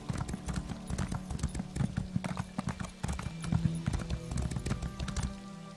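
Horse hooves clip-clop steadily in the video game ESO (Elder Scrolls Online), a dense run of close, repeated hoofbeats with a brief whinny-like tone partway through.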